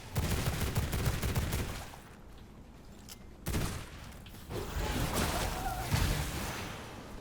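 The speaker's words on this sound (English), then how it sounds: "Show the pistols in action." Pistol gunfire in the PC game V Rising: a dense burst of rapid shots in the first two seconds, then a quieter stretch and further bursts of shooting and impacts, loud and close throughout.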